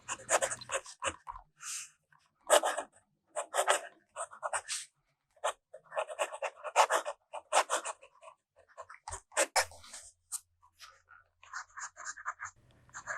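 A fountain pen with a posting nib scratches across reporter notebook paper in a quiet room, close and faint, in short bursts of strokes separated by pauses.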